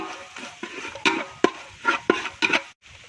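A spoon stirs spices and ground clove and cardamom into a crab roast in a pan, giving intermittent scraping clinks and soft sizzling, close and fairly quiet.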